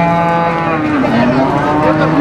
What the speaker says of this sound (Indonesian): ini ada sapi simental.